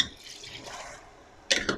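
A cup of water pours briefly into a pot of okra and meat with a soft, hollow gush, followed by a couple of short splashy knocks.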